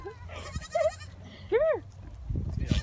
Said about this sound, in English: I want to feed a baby goat a bottle.